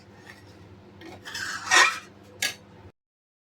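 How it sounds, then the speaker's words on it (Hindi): Spoon stirring and scraping thickening milk in a pan over a low flame while making kalakand, with soft repeated scrapes that swell into a louder rasping stroke, then one more short scrape before it stops. "अब इसे हम कम फ्लेम में धीरे धीरे हम चलाते रहेंगे और ये जो चारों तरफ जो दूध जम जाता है इसे भी हम खचोड़ते रहेंगे"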